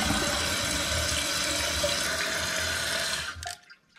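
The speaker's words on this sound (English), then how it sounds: "Give it a test flush and make any fine adjustments to the water level if you need to." A toilet is test-flushed after a new Fluidmaster fill valve is fitted, giving a loud, steady rush of water close by for over three seconds before it abruptly cuts off into a faint trickle.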